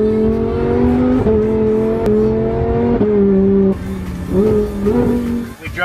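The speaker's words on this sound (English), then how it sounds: "We drove for a little bit and Brian in the twin turbo Lambo has been killing it." A twin-turbo Lamborghini Huracan accelerates hard along a back road, its engine climbing through loud, rising revs with quick shifts and brief dips between gears, close and continuous with no talking.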